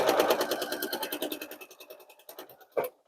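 A sewing machine runs in a fast, even stitching rhythm along a quilt block seam, slowing toward the end and stopping with a short clunk.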